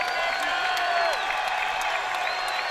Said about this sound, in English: the Cajun Dome crowd now starting to get into it a little bit defensively